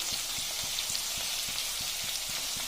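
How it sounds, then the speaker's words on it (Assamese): Onion sizzles in hot oil in a pan while ridge gourd fry is cooked, a steady hiss and crackle with regular soft taps throughout. "এতিয়া এইফালে বনাবলৈ লৈছোঁ জিকা ভাজি এয়া পিঁয়াজ দিছোঁ"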